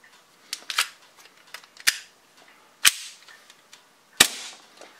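A Marui Hi-Capa airsoft pistol fed from a lightweight Guarder magazine fires single semi-auto shots: three sharp, loud cracks spaced about a second apart, with quieter handling clicks and rustles between them.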